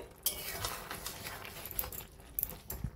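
A spoon stirs a fish curry of rui with capsicum, tomato, coriander leaves and slit green chilies in a pan. Quick clinks and scrapes of metal on metal come close and fairly loud, in an uneven rhythm.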